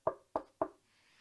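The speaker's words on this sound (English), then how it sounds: "he knocked on the door." Three firm knocks on a door, evenly spaced and close, with no talk and quiet in between.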